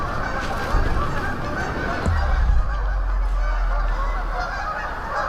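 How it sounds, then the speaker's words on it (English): A flock of agitated geese honks loudly and continuously in the woods at night. A deep low rumble joins partway through. "These geese are freaking out."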